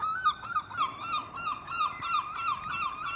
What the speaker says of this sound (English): The seagulls are screaming.